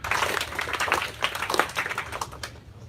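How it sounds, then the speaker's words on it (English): A student audience at a university event claps together in a dense, uneven patter of many hands. It holds loud and steady for most of the stretch, then thins out at the end. "I need to be 1, 1 clap, 2, 2 clap, 3, 3 clap."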